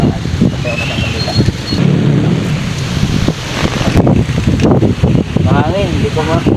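Gusty wind buffets the microphone in a loud, low rumble outside a church, with a person talking underneath.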